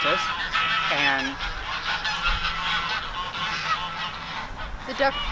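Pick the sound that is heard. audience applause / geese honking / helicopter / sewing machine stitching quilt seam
geese honking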